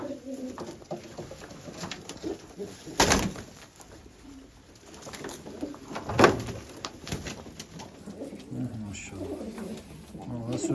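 Jumbo pigeons in a roughly three-by-three coop holding eight to ten birds coo softly and repeatedly, close by, under people talking, with an occasional clatter of a door.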